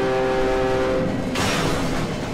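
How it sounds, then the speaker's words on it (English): In the horror game Cry of Fear, a train barrels past with a loud horn blast giving way to a heavy rushing roar and rattle of cars, close and overwhelming, with no talk. "Cause that train's probably gonna come running at me, so here we go."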